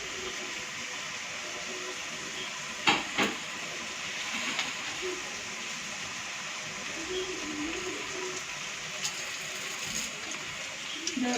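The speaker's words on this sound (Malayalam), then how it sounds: "നമ്മുടെ വെള്ളം അവിടെ തിളച്ച് വന്നപ്പോൾ നമുക്ക് നൂഡിൽസ് കുറേശ്ശെ പൊട്ടിച്ചിട്ട് കൊടുക്കാം." Water boiling in a pot for noodles, a steady low hiss and bubbling held under a spoken voice, with a couple of sharp knocks partway through.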